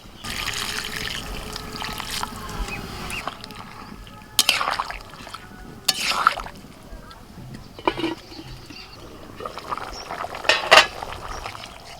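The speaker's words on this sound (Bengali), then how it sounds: "জল ঢেলে দেবো আচ্ছা উষ্ণ গরম জল" Warm water poured into a pot of desi rooster curry with new potatoes, trickling and splashing in short bursts amid clinks of a utensil against the pot, with faint voices in the background.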